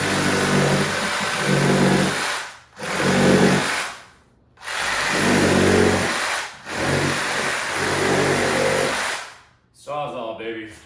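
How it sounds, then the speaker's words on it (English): A Sawzall reciprocating saw cuts in loud, buzzing bursts of several seconds each, separated by short pauses, with a final shorter burst at the end. "Sawzall, baby."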